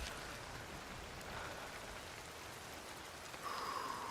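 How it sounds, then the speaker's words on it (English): Rain falling in the climbing video game Cairn, a steady faint hiss of drops with a thin tonal sound rising near the end, no voices. "It is raining again."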